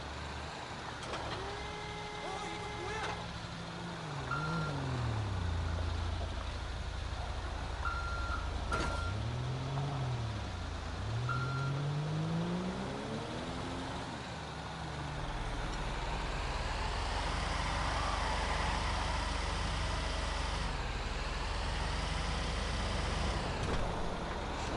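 In GTA 5, a truck sounds repeated electronic reversing beeps over its rumbling diesel engine, with the engine revving and its pitch rising and falling as the heavy vehicle maneuvers close by.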